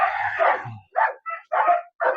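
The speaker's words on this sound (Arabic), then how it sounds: "كلب حلو وجميل ومحترم" A dog barks loudly and close in a series of four or five forceful, rough barks in an irregular rhythm, the first drawn out and harsher, with no talking.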